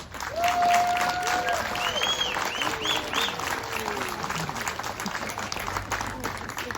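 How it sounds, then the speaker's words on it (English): Graduation ceremony crowd breaks into loud applause for families, thick continuous clapping mixed with cheers and whoops, gradually easing slightly over several seconds. "please join me in offering a big round of applause and gratitude to your families"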